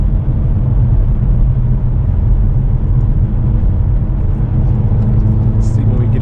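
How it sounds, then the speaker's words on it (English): Engine of a 2023 Hyundai Elantra N rev-matching during a test drive, a loud steady low rumble heard from inside the car with no talk. "I want to hear that rev matching."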